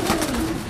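Madrasi pigeons give a brief, low coo, close and fairly loud, with no speech.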